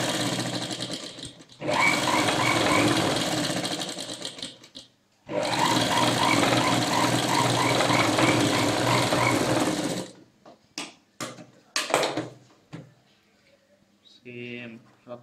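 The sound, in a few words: sewing machine stitching a blouse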